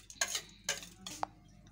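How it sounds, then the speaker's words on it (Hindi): Spoon clinking against a bowl while chili and salt are stirred into yogurt for eggplant raita, a few close, bright scrapes and taps in short bursts with no talking. "अब मैं इसको इस दही के अंदर मिक्स कर दूँगी"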